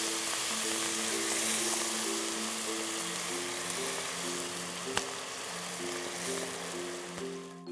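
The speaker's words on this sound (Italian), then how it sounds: "lasciamo tostare leggermente e a questo punto aggiungiamo il brodo di pesce" Fish broth hitting toasting fregola in a hot pan gives a steady, close sizzling hiss that runs the whole time beneath soft background music, with one sharp click near the end.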